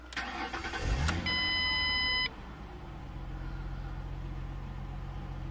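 A 2013 car with high mileage starts up: a brief chime and crank, the engine catches with a loud burst, and it settles into a steady low idle.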